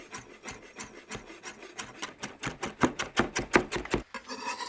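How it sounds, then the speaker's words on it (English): A knife finely chops fresh dill on a board with a quick, steady run of close, crisp strokes that grows slightly louder and faster before stopping. "To make the dressing, finely chop the dill"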